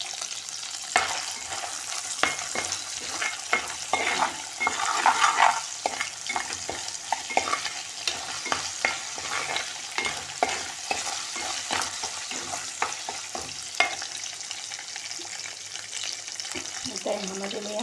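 Green chilies and curry leaves fry in hot oil in a pan, giving a steady crackling sizzle broken by frequent stirring clinks and scrapes over the whole stretch, heard up close with no talking.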